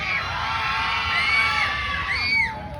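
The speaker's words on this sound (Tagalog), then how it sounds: "Wala po bang malakas na hiyawan dyan?" An audience at a national costume pageant cheers and shrieks loudly, high whoops and yells rising over a crowd roar, swelling near the end.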